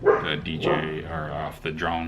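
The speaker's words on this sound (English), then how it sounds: "That's my dog." A dog barks and yips a few times close by in a home setting, the short sharp calls overlapping with someone talking.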